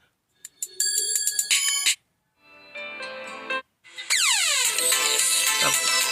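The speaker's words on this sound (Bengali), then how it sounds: "এখানে দেখো অনেক রকম রিংটোন আছে" Several mobile phone alarm ringtones play one after another as previews: a bright chiming tune, a short pause, a softer melodic tone, then a sweeping electronic ring, each loud and near with abrupt stops between.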